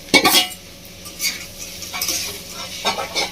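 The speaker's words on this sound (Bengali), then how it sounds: "ভেজে রাখা মাছটা দিয়ে আরো ভালো করে একটু আলুর সাথে ভেজে নেব" Pieces of fried fish tossed with potatoes in a pan, with a steady sizzle of frying broken by scraping stirs of a spatula against the pan and a few clinks, near and fairly loud throughout.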